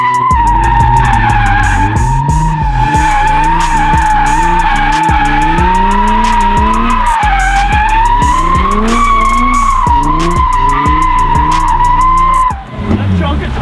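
Drift car sliding in first gear on worn, tread-shedding tires, with a loud continuous engine drone rising and falling and the tires squealing and skidding throughout, ending in a brief dip.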